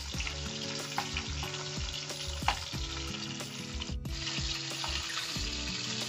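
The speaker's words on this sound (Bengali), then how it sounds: "মাছগুলোকে একটু কড়া করে ভেজে নেব" Small puti fish fry crisp in a pan of mustard oil, a constant bubbling sizzle with occasional louder pops, accompanied by a steady melodic background.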